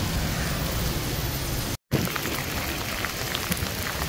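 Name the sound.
heavy rain falling in Tallinn Old Town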